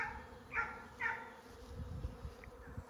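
A honeybee swarm that has left a white backyard hive gives a faint, low, distant hum, broken by a couple of short, higher chirps, with no voices.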